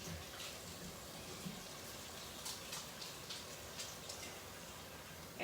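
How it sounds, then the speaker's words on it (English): Tap water runs steadily into a kitchen sink while hands are rinsed under it during meal prep, a continuous soft hiss with faint splashing and no speech. "Got to wash my hands."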